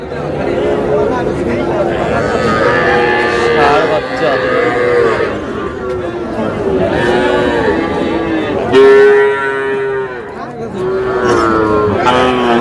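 Calves bellow repeatedly amid a busy, noisy crowd at the Ambari cattle market in Dinajpur, where young bull calves and heifers are being sold, with loud moos rising over steady chatter and haggling voices.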